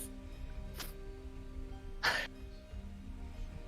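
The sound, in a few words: cough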